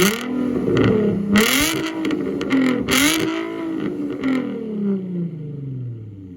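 Nissan 350Z with its VQ V6 engine revving, three sharp throttle blips rising and falling in quick succession, loud and close, with a longer swell toward the end.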